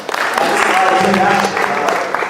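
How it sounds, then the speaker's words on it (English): Audience clapping for a performer at a magic show, a short burst of dense applause with some crowd noise mixed in. "Give a big round of applause"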